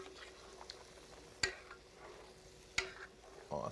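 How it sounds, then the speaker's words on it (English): Mac and cheese stirred in a pot while cooking, a soft scraping swirl broken by two sharp clacks of the spoon against the pot and a brief sizzle near the end. "Let's give that a stir."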